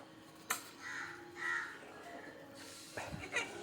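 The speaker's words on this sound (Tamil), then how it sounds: "காக்கா வேற பக்கத்தில் வந்து இருந்து கத்திட்டு இருக்கு" A crow caws several times in short, harsh calls, somewhat distant, with quiet gaps between them.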